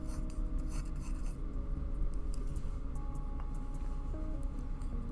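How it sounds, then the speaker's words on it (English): Continuous rasping scrape of plastic pieces from a Bandai Master Grade Psycho Zaku Ver.Ka model kit being sanded by hand, with steady close strokes and no pauses or talk. "I feel like I keep sanding the same pieces over and over again."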